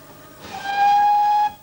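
Preserved steam locomotive at a railway museum sounding its steam whistle, a loud, close, sustained tone rising in after a breathy hiss and cutting off after under a second.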